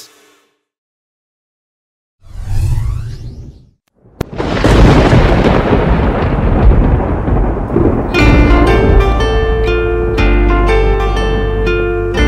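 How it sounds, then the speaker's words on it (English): Thunder in a children's nursery song: a rumbling crack followed by a loud sustained roar, joined after a few seconds by bright upbeat music playing over the storm. "I hear thunder, I hear thunder."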